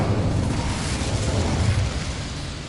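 The Incendio fire spell in Hogwarts Legacy goes off as a loud, rumbling blast of roaring flame that holds steady for a couple of seconds and then eases off slightly.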